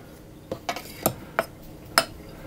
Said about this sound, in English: I'm going to give that a stir around just to get those little cubes